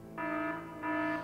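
A two-pulse electronic alert alarm from the Evil Genius video game, sounding as two sustained harmonic buzzing blasts separated by a brief gap, steady and moderately loud with no talking.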